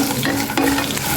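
Cashews fry in hot oil for ravva pulihora, giving a brief, close crackling sizzle with a light stir or scrape partway through, no speech.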